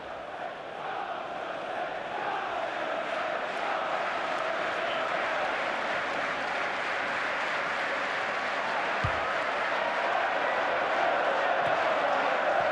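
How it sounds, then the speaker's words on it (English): Stadium crowd in the FIFA 15 football video game, jeering and roaring after a missed penalty, a dense, steady wall of crowd noise sustained throughout at moderate loudness. "he's getting some stick from the crowd"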